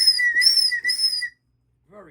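Shrill whistle notes sound in an engine-building shop during valve train adjustment: three close, sustained tones in quick succession, then a brief silence and a faint short chirp.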